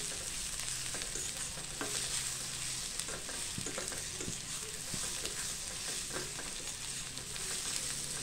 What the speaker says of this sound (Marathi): खोबरं असं छान कांद्यामध्ये आपल्याला तेलामध्ये छान असं लालसर होईपर्यंत परतायचं.